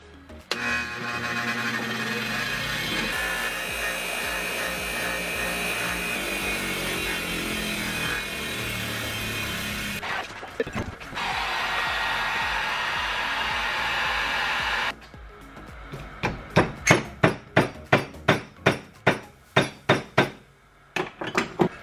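On a salvage BMW M2 rebuild, a heat gun roars steadily to warm a seam sealer tip, then a run of sharp, rhythmic taps follows as the softened tip is flattened, close and loud with no talking.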